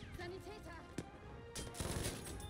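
Medium machine gun fire in the Battlefield V game, heard as dense bursts of rapid shots with a sharp crack near the one-second mark and heavier sustained fire in the second half, up close and loud.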